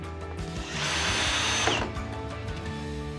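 A power drill whirs for about a second, driving screws into a hinge while an interior door is being replaced; a steady motor whine rises and fades, close up, with light wooden clatter around it and no talking.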